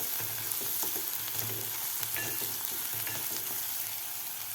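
Onion and garlic sautéing in a pan, a steady close sizzle and hiss of frying with faint scraping stirs running throughout, no voices.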